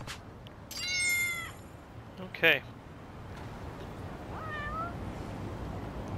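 A cat in the video game Lost Judgment gives a few close meows, one longer drawn-out call followed by a brief sharp cry and a softer mew later, while a person says a short word.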